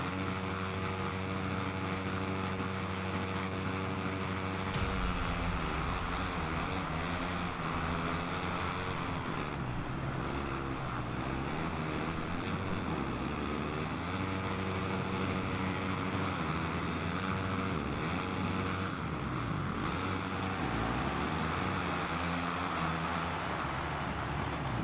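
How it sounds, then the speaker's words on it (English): Several supercross motorbikes idle and rev together on the starting line in Monster Energy Supercross 5, a dense, steady engine drone that stays loud throughout, with pitch shifting and swelling as the riders warm up. "The riders are lined up and are warming up their engine."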